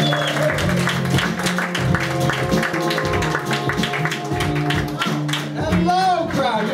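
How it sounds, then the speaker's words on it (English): Audience applause and cheering for stand-up comedian Hank Thompson as he takes the stage, a steady wash of many hands clapping with whoops and crowd voices, loud and continuous throughout. "Make some noise for Hank Thompson!"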